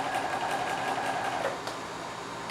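A sewing machine runs an edge stitch that attaches a facing to a skirt, a fast, even mechanical whir with a rhythmic needle pulse, steady and close, then slowing and easing off near the end.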